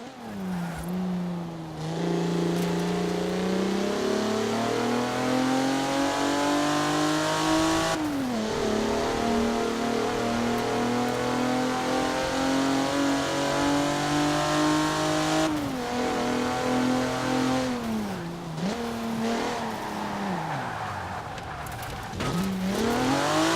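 A Regalia Type-D car engine in the video game Forza Horizon 4 revs steadily for the whole stretch, its pitch rising and dropping with brief cuts between gears, loud and close with no talking.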